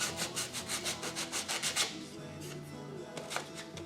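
Sandpaper scratching over purple-painted wood on a model house, a quick run of rhythmic rasping strokes for about two seconds, then lighter scattered rubs, close and alone with no voices.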